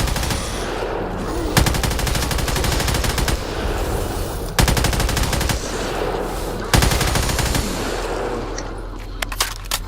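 Sustained automatic fire from a machine gun in the Black Ops 3 custom zombies map Machin[A], with several long rattling bursts separated by brief gaps and loud sharp onsets.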